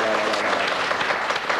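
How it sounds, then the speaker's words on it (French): Enthusiastic audience applause, a dense steady clapping from a crowd filling the moment, with a voice faintly audible underneath. "C'est Madame Denise Préau, que j'aimerais qu'on applaudisse très très fort."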